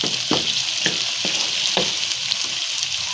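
Potatoes browning in oil in a pan for a spiced potato, pea and fenugreek curry, giving a continuous bright sizzle with periodic scraping and stirring strokes, close and steady.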